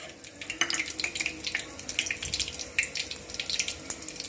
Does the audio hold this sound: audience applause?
no